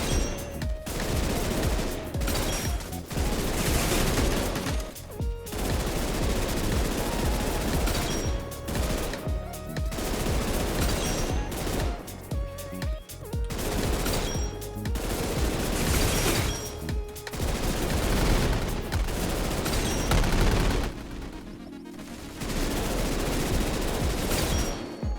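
Light machine gun fire in a shooter game, in long, loud sustained bursts of rapid shots broken by short pauses, with no voices.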